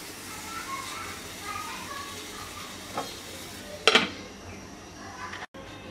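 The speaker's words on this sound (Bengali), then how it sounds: "এবার কয়লার উপরে আমরা দিয়ে দিচ্ছি 1 চামচ বাটার," A spoonful of butter hits hot charcoal while making Turkish Adana kebab, giving a sudden loud hiss and spit after a quiet stretch, then fading to a faint crackle with a light clink.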